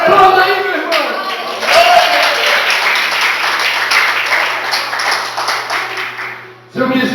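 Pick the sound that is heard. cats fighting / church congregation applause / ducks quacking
church congregation applause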